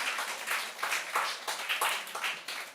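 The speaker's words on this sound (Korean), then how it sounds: "예, 박수 한번 하겠습니다." A church congregation claps in welcome, a dense, even burst of applause from many hands lasting a few seconds, fairly close.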